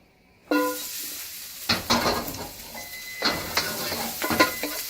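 Green onion mixture being stirred in a hot pan, with a steady close sizzle and bursts of utensil scraping and clatter against the pan across the clip.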